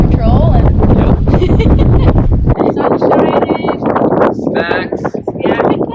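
Gusty wind buffets the microphone aboard a sailboat on Lake Ontario, loud rumbling bursts that ease after a couple of seconds while people talk over it.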